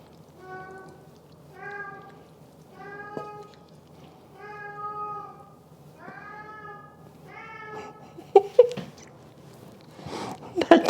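A cat meows repeatedly indoors, about seven drawn-out, tonal meows in a steady series at moderate volume, followed by a few clattering kitchen knocks near the end.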